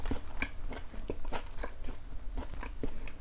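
Close-up chewing of a CJ pork neck steak, with soft wet bites and crunchy mouth sounds repeating at an uneven pace, quiet and near, with no talking.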